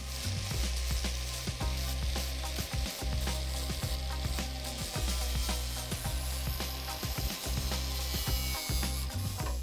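A power grinder works on a fibreglass car bumper with a loud, continuous, rough rasping drone and a rhythmic chattering pulse underneath, close by and uninterrupted.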